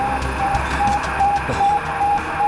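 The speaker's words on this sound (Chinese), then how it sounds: "有电子干扰" Electronic interference on a military radio in a war film: a steady hiss of static cut by short, evenly spaced beeping tones, moderately loud and constant throughout.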